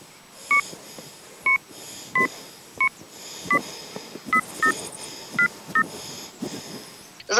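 A telephone keypad dials a city inspection office, a sequence of about a dozen short, sharp DTMF beeps at irregular spacing, loud and clear over a faint background hum.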